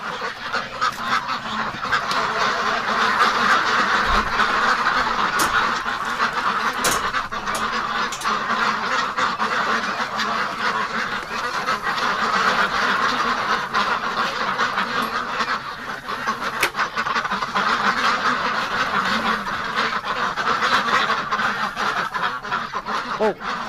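Ducks and geese kept in a winter pen at night give a steady, dense chorus of quacking and honking, loud and continuous throughout with no talk.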